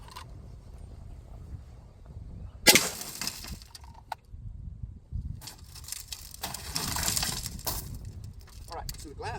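Vehicle window glass shatters with a sharp burst, then crunches and grinds as broken pieces are crushed and cleared, in loud bursts separated by quieter handling, with people talking in the background.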